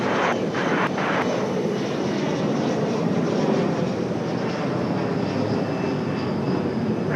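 A Frontier Airlines jet rolls for takeoff on runway 23 right, its engines a loud, steady broadband roar that holds throughout with no voices over it.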